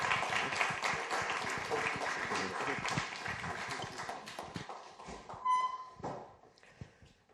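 Evening lecture audience clapping for two speakers, a dense, steady round of applause that thins and fades out toward the end as a voice begins.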